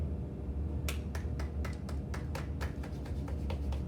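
After a yoga class, a group snaps their fingers in place of clapping, giving about a dozen sharp, crisp snaps. They start sparse and grow quicker and more overlapping toward the end, heard against a quiet room.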